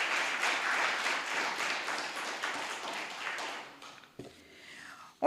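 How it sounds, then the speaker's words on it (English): Audience applause at a talk on BRICS, steady moderate clapping from a room of people that thins out and fades near the end, followed by a few brief sounds. "we need to give her another huge round of applause"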